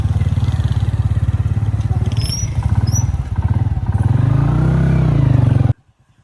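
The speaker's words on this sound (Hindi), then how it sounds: "आज बाइक चला रहे हैं" A motorcycle rides along a mountain road in the Saran Valley, Mansehra, its engine chugging steadily up close with a rhythmic pulse, a couple of brief high chirps overhead, then the sound stops abruptly.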